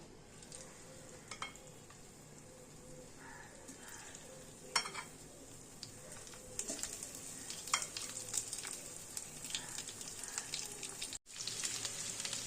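Cauliflower florets frying in hot white oil in a wok, a soft crackling sizzle that grows busier and louder partway through, with occasional stirring clinks.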